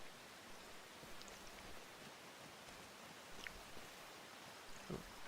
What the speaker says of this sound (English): Oh, look at that rain.